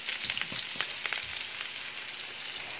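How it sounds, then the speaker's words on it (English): Garlic and onion sautéing in preheated oil in a pan, a steady close hiss of frying with soft crackles and stirring clatter throughout. "let's put garlic. Then put our onion as well."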